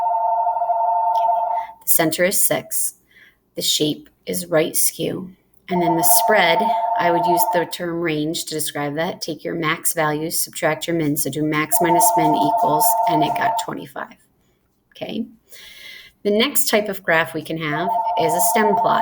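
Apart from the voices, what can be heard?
phone ringing across the house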